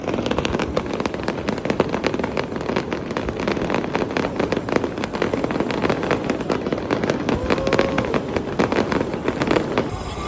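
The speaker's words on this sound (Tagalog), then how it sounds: "Parang mas maganda yung fireworks na yun, oh!" Dense, continuous crackling and popping of fireworks bursting in rapid succession in Singapore, loud and sustained throughout.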